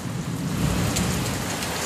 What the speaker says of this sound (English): We get a lot of lightning here. Yep. Lightning and thunder.